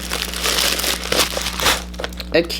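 Plastic wrapping on a Louis Vuitton item crinkles up close in bursts of crisp rustling, with a voice talking over it.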